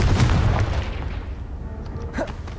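A Confringo blasting spell explodes against a pile of debris in the game Hogwarts Legacy: one loud, deep boom that rumbles and decays over a couple of seconds.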